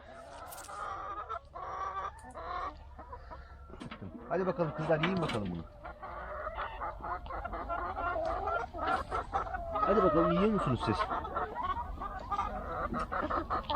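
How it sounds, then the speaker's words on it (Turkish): Free-range chickens cluck and squawk close by in a busy flock, with honking fowl calls rising over a voice talking to them. "Limon yiyen tavuklar."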